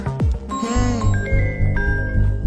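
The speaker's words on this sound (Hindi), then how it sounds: "देखो फोन तो आ गया उसका।" A phone ringtone plays loudly: a repeating electronic melody of chiming tones over a pulsing low beat, after a brief swooping effect.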